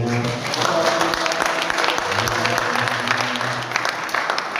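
Congregation clapping in a church service, a steady burst of applause lasting several seconds, close and full, with voices mixed in.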